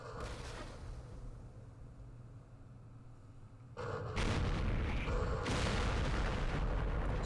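Artillery fire in the Vietnam war game Campaign Series Vietnam: a quieter rumbling stretch gives way to loud, sustained booming blasts and roaring explosions, close and heavy, continuing to the end.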